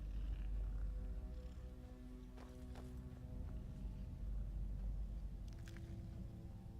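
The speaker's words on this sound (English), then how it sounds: "That purring sound sounds like skeevers." Skeevers in modded Skyrim give a low, continuous purr, faint and rumbling, with a few brief clicks and taps over it and no talking.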